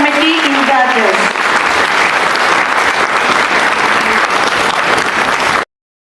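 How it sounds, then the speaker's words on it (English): Loud, dense applause from a crowd at a school investiture ceremony, sustained and even for several seconds before cutting off abruptly, with a voice speaking briefly at the start. "Please give them a big round of applause"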